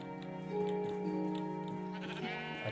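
Repeated sheep bleats from a video game, likely Minecraft, sounding as a string of close, nasal calls over a steady game background, with no talking.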